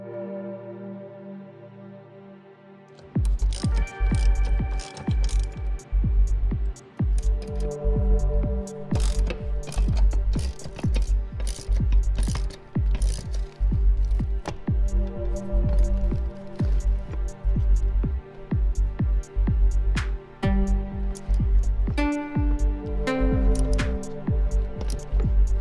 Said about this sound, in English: there's just going to be a series of different bolts that we need to take out